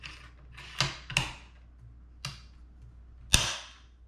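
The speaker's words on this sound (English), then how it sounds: "there's a little knob, you push it down and you release the bolt" Metallic clicks and clacks from the bolt of a Sako S20 .30-06 hunting rifle being unlocked and released, several sharp separate snaps with a louder crisp click near the end, close and with no talking.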